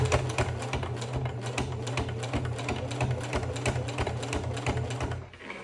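A sewing machine runs steadily while stitching denim jeans with a leather test piece, a continuous fast mechanical chatter that holds for several seconds and then eases off near the end.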